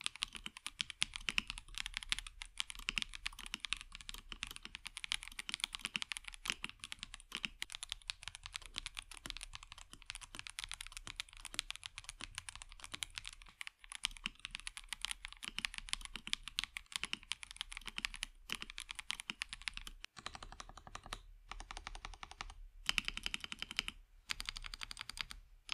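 Steady typing on a KBDcraft Adam R2 LEGO mechanical keyboard, a dense stream of close, quick clacky keystrokes with occasional short pauses, heard alone.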